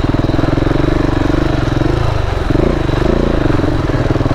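Adventure motorcycle engine running on a steep Honduras backcountry trail, a steady close throbbing drone with a brief dip in pitch midway, loud throughout with no talk.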